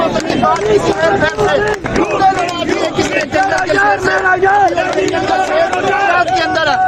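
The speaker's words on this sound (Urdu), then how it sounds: "بشرا بی بی اور عمران خان کے حق میں یہاں پر نعرے بازی کی جا رہی ہے" PTI supporters crowd outside a court, and their voices rise in loud, rhythmic slogan chanting that carries steadily, dense and close.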